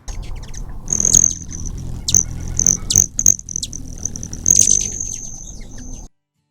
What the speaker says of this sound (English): A high-pitched tinkling sound as a hummingbird flies past tells you it was a broadtail.